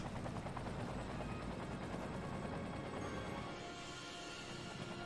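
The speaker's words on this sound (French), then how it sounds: "Il y a un hélico de pompier qui est intervenu ici." A fire helicopter in the city-building game Cities: Skylines gives off a loud, steady rotor roar with dense chopping texture that eases slightly toward the end, with no talking.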